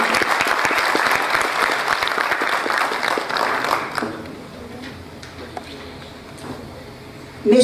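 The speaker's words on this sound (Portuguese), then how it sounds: "Nossos aplausos ao comendador" An audience applauds an honoree at a Brazilian heraldry and humanities ceremony, dense clapping filling the room for about four seconds before thinning into scattered claps and background murmur, with a louder burst at the very end.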